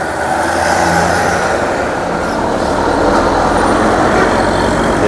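Tour buses rumbling past in slow traffic near Pangandaran Beach, Indonesia, a steady loud engine drone with road noise and no clear breaks.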